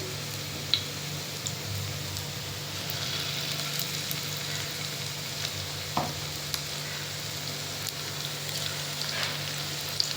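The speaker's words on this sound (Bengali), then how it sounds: "তেল গরম হয়ে গেছে, এবার লোটে মাছটাকে ছেড়ে দিই একটু একটু করে।" Bombay duck (lote) fish frying in hot oil in a wok, a steady low sizzle throughout with a few sharp pops and clinks scattered across it, no voices.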